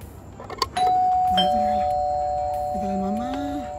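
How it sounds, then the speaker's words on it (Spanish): A home doorbell chimes with one long, clear, sustained electronic tone while voices talk nearby. "Vamos a timbrar."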